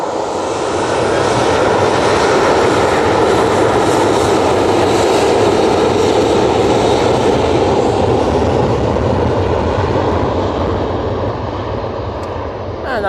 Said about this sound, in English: that Ryanair is off to Barcelona. Using the 737-800 for that flight